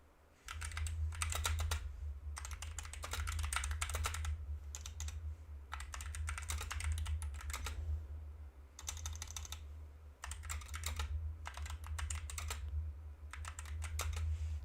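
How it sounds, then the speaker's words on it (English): Steady typing on a computer keyboard at a day-trading desk, close clicky keystrokes in quick bursts with short pauses, over a low constant hum. "Let me type it first."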